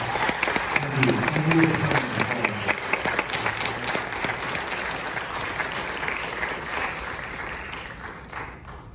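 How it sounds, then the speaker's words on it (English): An audience applauds director Elliott Hasler after a film discussion, a dense, steady wash of clapping that fills the room before tapering off near the end, with a few voices murmuring underneath. "another round of applause for Elliott"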